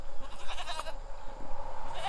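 Nigerian Dwarf dairy goats, unsettled by a disrupted morning routine, bleat in several overlapping calls close by, with some faint background noise between cries.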